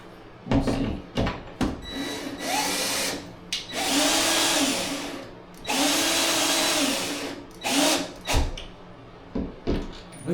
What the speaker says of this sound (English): Looks like my drill's dying.